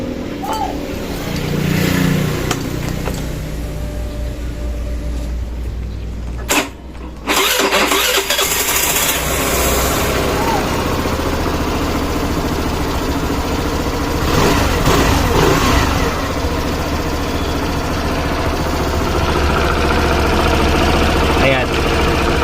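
A Suzuki Burgman Street 125 scooter engine sputters, catches and settles into a steady, loud idle, with a brief cutout partway through.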